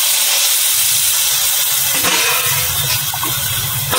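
Water from ground radhuni spice paste, plus a bowl of plain water, poured into a hot pan of frying fish curry: a loud, sustained steamy sizzle and hiss that slowly settles.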